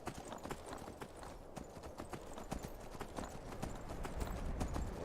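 Horse hooves clop steadily at a walking pace in Skyrim, a regular close rhythm of hoofbeats that grows slightly louder toward the end over soft ambient game noise.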